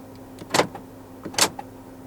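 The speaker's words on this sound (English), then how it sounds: "Central locking." A 2020 Toyota Corolla 1.8 G's central door locking actuates twice, each a short, sharp mechanical clunk close by, about a second apart, with faint clicks around them.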